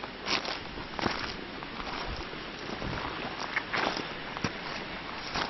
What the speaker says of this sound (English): You can hear the ice crushing underneath my feet.